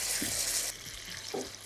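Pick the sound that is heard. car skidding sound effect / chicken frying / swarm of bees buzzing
chicken frying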